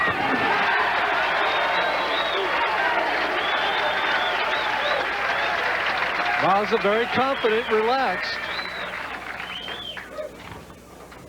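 Crowd at a 1997 PBA Mobil 1 Classic bowling tournament applauding and cheering in a steady loud roar, with a commentator talking over it and a few sharp whoops rising near the end as the noise fades.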